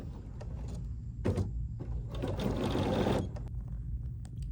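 Bernina sewing machine stitching with a medium clamp embroidery hoop: a short burst of rapid mechanical needle chatter at first, then a longer steady run of whirring stitches that stops, close and clear with no talk.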